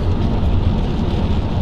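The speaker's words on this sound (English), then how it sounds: "But as you can see, it's still raining." Rain drumming on a car roof and windows, heard from inside the car on an autumn day: a dense, steady rumbling patter, close and loud, with no talking.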